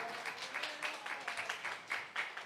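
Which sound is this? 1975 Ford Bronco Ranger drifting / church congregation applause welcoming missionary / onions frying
church congregation applause welcoming missionary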